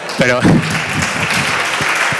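A short burst of audience applause erupts under a speaking voice, then continues as scattered clapping while the talk carries on.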